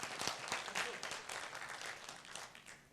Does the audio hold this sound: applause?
yes